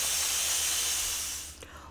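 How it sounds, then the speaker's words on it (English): Steam hissing steadily out of a pressure cooker's release valve while ham and split pea soup cooks, a bright continuous hiss that fades away near the end. "Once all the pressure is released, you can go ahead and open up the lid."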